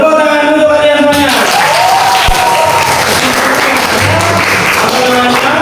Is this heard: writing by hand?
no